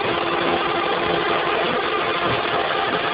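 A steady, dense whirring drone fills the space as an electric motor spins at high speed, around 3,500 RPM, loud, constant and unbroken, with no voices.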